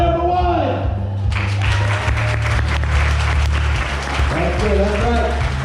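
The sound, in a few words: audience clapping at freak show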